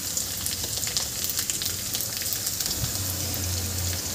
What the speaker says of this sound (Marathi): इथे आपल्याला कांदा छान परतून घ्यायचा आहे